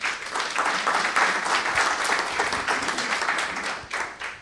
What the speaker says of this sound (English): Please give the group here a round of applause.